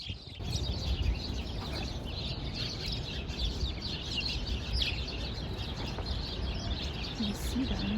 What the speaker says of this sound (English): These birds, they're so cute. They're so loud.